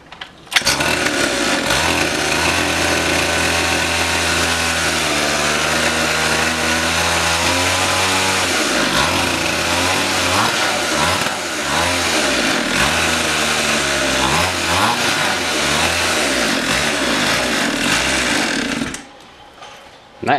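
A pit bike engine runs without an exhaust, producing a loud, raw, buzzing roar that stays steady for a long stretch, rising and dipping in pitch with repeated revs before cutting off abruptly.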